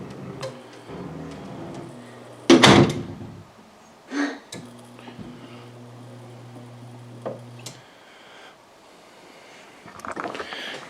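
A smart-home door closer drives an attic door, with a sharp clack, a short knock, then a steady low motor hum running for about three seconds before stopping, and faint clicks afterward.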